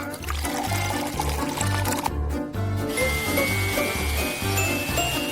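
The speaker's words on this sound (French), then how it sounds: "C'est toi qui les mets et moi, je verse de l'eau." Water poured from a container onto a plate of food during a kitchen food challenge, a steady splashing trickle over a loud, rhythmic music backing.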